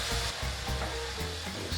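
Apple cider vinegar hitting a hot pan of taco beef gives a steady, close sizzle, with a few soft stirring knocks underneath.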